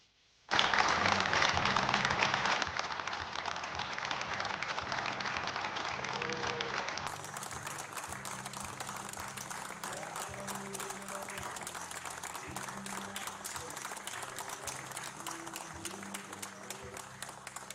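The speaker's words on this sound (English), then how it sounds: "Again, I see clapping" A crowd applauds and cheers at a political rally in Eau Claire as a speaker comes up, dense sustained clapping that starts loud and keeps going steadily throughout, with voices faintly mixed in.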